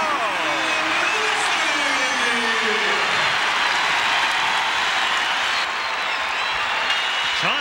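Loud, sustained cheering and applause from a packed arena crowd at an Iowa Hawkeyes home basketball game against Illinois, a steady roar over several seconds with a few faint whistle-like tones early on.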